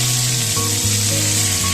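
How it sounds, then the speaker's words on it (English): Squids cooking in oil in a pan over a medium flame, a continuous, fairly loud sizzling hiss with a few brief tonal shifts, no voices. "In the same pan, add oil to it and place your squids as I'm showing, and cook them on medium flame"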